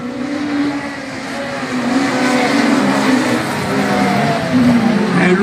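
Rallycross cars, including a Peugeot 208 and a Clio Super 1600, racing past with loud buzzing engines that rise and fall, plus some tire noise, with a commentator's voice faintly mixed in.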